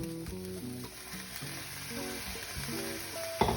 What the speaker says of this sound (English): So the kale is all wilted and combined, and I'm going to add the lentils to warm them all up.